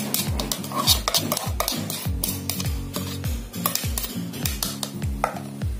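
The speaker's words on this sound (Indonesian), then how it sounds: "cream cheese, gula halus, dan whipping creamnya. Kita kocok sampai creamy ya, teksturnya creamy" Cream cheese, powdered sugar and whipping cream whisked in a bowl with a Mito Fantasy Mo-888 mixer until creamy; loud, close, rhythmic strokes repeat evenly, with clattering knocks against the bowl at each pass.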